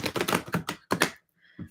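A final hand shuffle of a tarot deck: several quick, close riffling snaps in a tight burst, a brief pause, then one last soft tap, with no voice over it.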